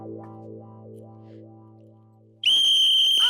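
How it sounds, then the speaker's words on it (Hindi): A low wavering tone gives way to a sudden loud, shrill whistle blown right into someone's ear, close and piercing in a comedy sitcom scene. "तुम ऐसे कान में सीटी बजाओगी"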